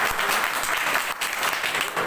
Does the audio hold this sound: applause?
yes